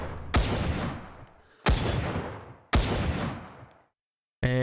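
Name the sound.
semi-automatic Russian rifle firing in Rising Storm 2 Vietnam video game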